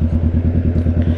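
Big bike motorcycle engine running steadily, a loud close low throb with a regular pulsing rhythm for just over a second; no voices.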